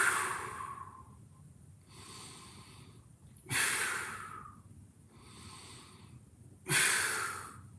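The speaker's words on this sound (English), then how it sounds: "3 inhales, 3 exhales here." Deep, slow breaths taken during a shoulder stretch, with three long inhale-exhale cycles, each one a loud, airy rush up close that fades into near silence between breaths.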